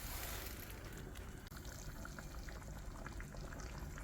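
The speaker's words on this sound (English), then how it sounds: "So they're simmering in the sauce with the chicken and the pork." Prawns, chicken and pork simmering in a thin sauce in a wok for chicken curry, giving a steady close bubbling and hissing that stays even throughout with no voices.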